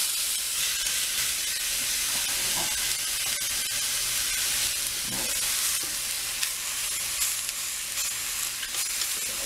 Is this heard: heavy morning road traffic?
no